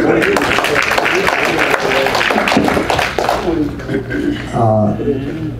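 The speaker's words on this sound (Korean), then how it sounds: "큰 박수 부탁드립니다." Audience applause fills a ceremony marking the 62nd anniversary of the May 16 revolution: dense, steady clapping from a crowd that fades as a voice speaks over the last moments.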